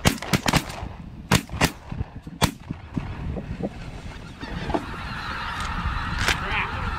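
Geese honking during a goose hunt, with sharp shotgun blasts early on, followed by a chorus of honks that is steady and fairly close.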